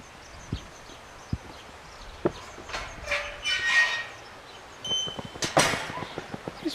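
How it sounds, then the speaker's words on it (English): A train runs along a coastal railway in Snowdonia, heard from nearby with rhythmic wheel clacks over rail joints and a brief higher screech, moderately loud. "More trains coming."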